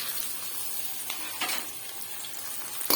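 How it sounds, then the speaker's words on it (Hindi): Onion sizzling in cooking oil in a kadhai on a stove, a steady soft frying hiss with a few brief stirring scrapes and a clink near the end, moderately quiet and free of talk. "यहाँ पे मैंने जी कढ़ाई रखी चूल्हे पे, इसके ऊपर मैंने डाल दी कुकिंग ऑयल और प्याज डाल दिया।"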